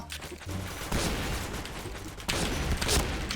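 Gunfire in a Point Blank online shooter, with bursts of rapid automatic shots and dense crackling fire that come in two louder waves, no voices.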